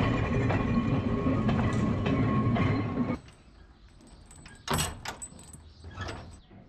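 A Manx Electric Railway tram on 3-foot gauge track between Douglas and Ramsey rumbles along loudly for about three seconds, then drops to a quieter interior with clicks, rattles and a few sharp metallic bangs.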